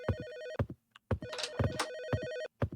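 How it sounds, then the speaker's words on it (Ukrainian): A telephone rings in repeated electronic trills with short gaps in the video game Side Hustle, clear and steady, with a brief faint voice fragment between rings. "О, Хтось телефонує."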